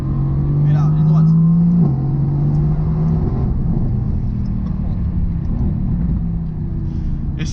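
A Mercedes-AMG GT S is driven at full throttle on a straight. Its engine pitch climbs under load, drops briefly at a gear change, then keeps a heavy, steady rumble from inside the cabin, while the driver talks over it.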